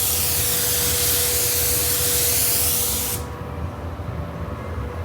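A spray gun lays a sealer coat of tri-stage Mazda 25D automotive paint onto a panel: a loud, steady broadband hiss that runs for about three seconds, then cuts off abruptly, leaving quieter background noise.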